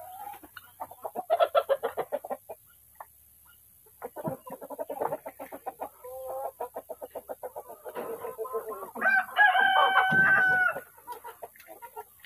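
Chickens, including Rhode Island Red birds, cluck in quick repeated bursts close by, with a rooster's long crow rising near the end, all without speech.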